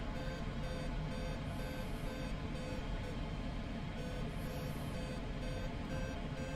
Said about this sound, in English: Sure enough, there's some beeping.